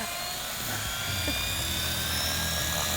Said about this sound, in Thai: รอให้ใบพัดหมุนสุดเสียงฟังนะครับ